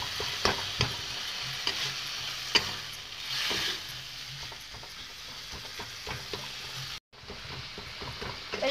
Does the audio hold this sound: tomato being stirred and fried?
yes